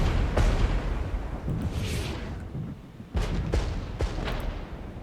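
Artillery fire in the Cold War real-time strategy game Regiments, heavy booms and sharp blasts landing in bursts against a rumbling battlefield backdrop, with several distinct impacts spread across the stretch.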